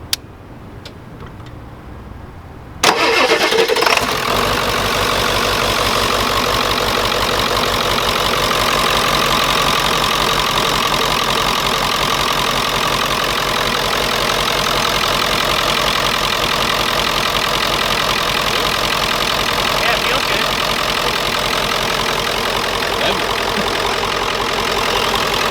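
A Ford 7.3 Powerstroke diesel with an open downpipe cranks and fires after a quiet moment, then settles into a loud, steady, rattling idle with a ticking, knocking clatter that runs unbroken to the end.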